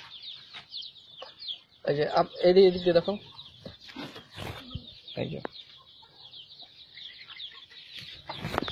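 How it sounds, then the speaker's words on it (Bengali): Desi chickens bought from the local area and held in a shed cluck in quiet, scattered bursts, nearby, with a louder flurry of clucking partway through while a person speaks briefly over them. "আমার লোকাল এলাকা থেকে মুরগি কিনে এনে পরিশোধন করার জন্য মুরগি রাখা আছে।"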